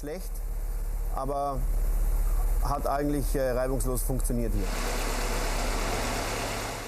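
A WRC rally car engine idles with a steady low rumble throughout just after starting, while people talk briefly over it.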